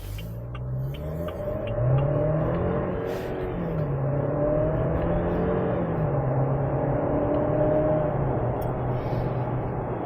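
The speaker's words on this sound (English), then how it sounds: "let's see how the Tank 300 accelerates and performs." 2023 GWM Tank 300 SUV accelerating, steady engine drone climbing in pitch through successive gear changes, heard from inside at moderate loudness with no talk.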